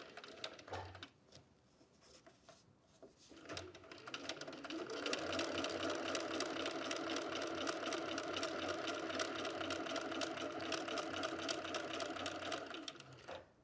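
A sewing machine stitches a back stitch on fabric for a puzzle ball, starting with a few short bursts, then running steadily at a loud, even whirring pace for about eight seconds before slowing.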